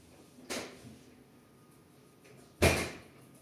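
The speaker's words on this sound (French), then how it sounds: "j'ai ouvert la porte à mon chien" A household door being opened to let a dog in, heard as a soft knock or latch at first, then a louder clack of the door opening in a quiet room, with no talking.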